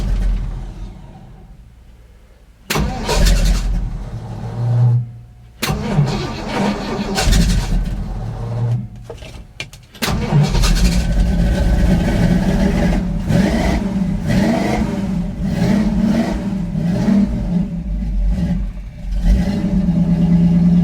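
A carbureted engine cold-started on a snowy day, cranking and sputtering through failed attempts before catching, then running loud and rough at a steady idle with brief revs, close by.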